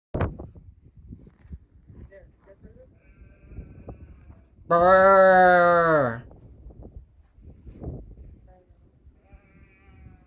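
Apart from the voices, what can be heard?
sheep bleating nearby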